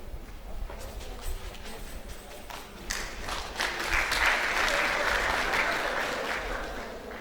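An audience at a Nigerian college of education induction ceremony claps continuously, starting moderately and growing louder and denser in the second half, a steady roomful of hands.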